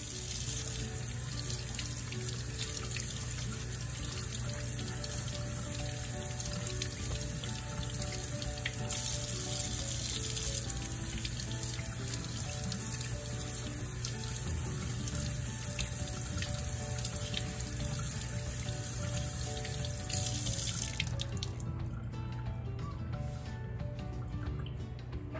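Potatoes being washed under a running kitchen tap, a steady loud stream of water splashing into a sink with faint drips and handling noises, continuous and close, no talk.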